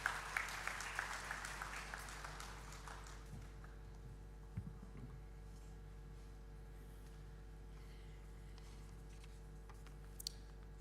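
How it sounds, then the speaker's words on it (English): A round of applause welcomes a professor at a university induction programme in a hall, a brief burst of clapping that quickly fades into a quiet room with faint scattered taps. "May we welcome Professor Panigrahi with a generous round of applause"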